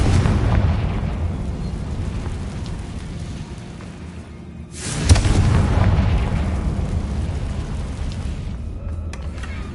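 A Confringo fire-blast spell in the Hogwarts Legacy video game goes off midway as a sharp, loud burst, then a broad rumbling roar that slowly fades over a steady low background rumble.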